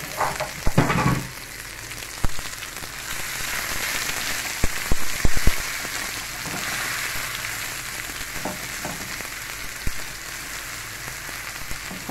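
Squeezed green herbs, drained of their juice, sizzle and crackle steadily in hot oil, with scattered louder pops and stirring clatters close by.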